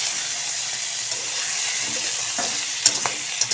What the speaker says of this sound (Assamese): ইফালে বেঙেনাখিনি ভাজি কৰি আছোঁ